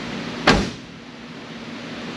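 A single dull thud of a Pontiac Firebird car door shutting with newly installed door glass, near and fairly loud, followed by a quiet steady hum.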